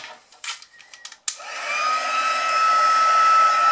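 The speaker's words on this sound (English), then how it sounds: "And then grab my heat tool" A few handling clicks and knocks come first, then a heat tool switches on and blows hot air onto card, holding a steady, close, loud whooshing hiss with a faint whine.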